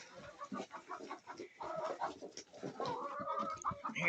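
Soft, close clucking and murmuring from several chickens being fed pizza, a continuous busy chatter with no talking.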